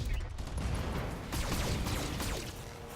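Weapon fire from battle mechs in the video game BattleTech, a dense, continuous barrage of gunfire and impacts rumbling loudly throughout.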